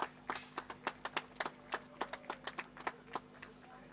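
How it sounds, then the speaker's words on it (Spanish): Sparse, quiet hand clapping at a rural livestock auction of cattle and horses, a dozen or so separate claps in an uneven rhythm from a small crowd, with a faint steady hum behind. "Aplausos y gracias."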